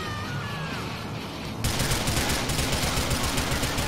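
Gunfire in GTA 4 The Lost and The Damned, a sudden loud burst of rapid shots that cuts in after a moment of engine-like noise and keeps going as a dense, continuous volley.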